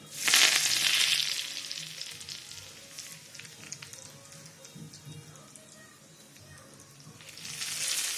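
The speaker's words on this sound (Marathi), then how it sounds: "आता इथं तेल गरम करून फोडणी तयार करून घेऊयात कढीपत्ता" Curry leaves hitting hot oil for a tempering in a home kitchen, a loud burst of crackling sizzle at the start that settles into a steady fry, then swells again near the end.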